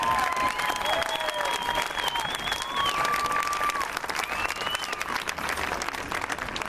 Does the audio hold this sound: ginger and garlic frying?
no